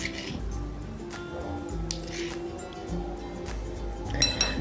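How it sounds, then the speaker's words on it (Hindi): Crushed walnuts are tipped into a bowl for Kashmiri walnut and radish chutney, giving a few light clinks and soft rattles against the dish. Faint background noise runs throughout, with a sharper clatter near the end. "तो अब हम इसको बाउल में डालेंगे।"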